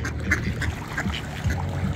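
A half wood duck, half mallard hybrid duck quacks in a run of short, repeated calls outdoors, moderately close, with no talking.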